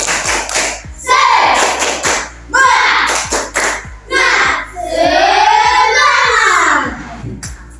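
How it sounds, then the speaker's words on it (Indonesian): A class of second- and third-grade children in an Indonesian classroom performs a rhythmic spirit clap, sharp evenly spaced claps beating steadily under loud, chanted children's voices, close and lively. "Ibu mau ngecek semangat kalian dulu. Tepuk semangat."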